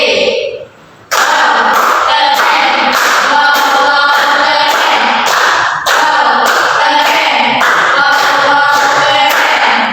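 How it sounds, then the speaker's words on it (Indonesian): After a brief voice, a group of schoolchildren in a classroom clap in unison, loud and close, in a repeating rhythmic pattern of beats grouped into bursts for a cheer. "Coba kalian tepuk tangan dikasih W, kasih O, kasih W."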